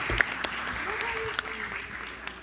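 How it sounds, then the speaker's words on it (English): Brief applause during a school board meeting, a steady wash of clapping from the room with a voice speaking over it. "let's give a big round of applause to all of our school psychologist support teams."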